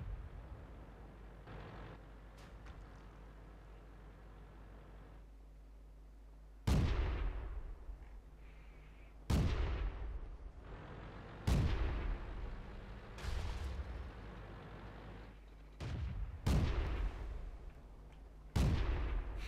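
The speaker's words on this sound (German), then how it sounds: "Warum um alles in der Welt schießt er mit HE?" Grant tank firing high-explosive shells in a Flugfeld-map battle video game: about six sharp, loud cannon blasts at irregular intervals, each with a rumbling decay, over a low engine hum.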